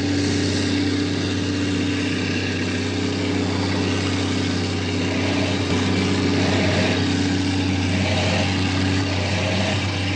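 Sappers Combat Engineer Tractor, an amphibious military engineering vehicle, its engine running with a steady droning hum and low tonal rumble, constant and fairly loud with no talk.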